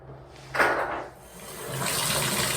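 Water starts running from a Moen shower faucet fitted with a newly replaced 1222 cartridge, a brief burst followed by a steady, broadband hiss of flow that builds and holds, fairly close.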